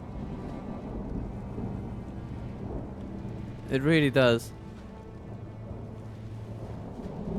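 Steady rain with a low rumble of thunder fills a Medieval 2 battle as a continuous wash of noise, while a voice briefly speaks over it near the middle.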